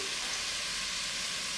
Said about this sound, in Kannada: ಈರುಳ್ಳಿ ಸ್ವಲ್ಪ ಜಾಸ್ತಿನೇ ಫ್ರೈ ಆಗಬೇಕು ಈ ಟೈಮಲ್ಲಿ